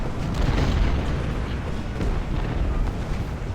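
Civil War artillery in Ultimate General: Civil War, a continuous rumbling barrage of deep booms and distant cannon blasts merging into a heavy, steady roar.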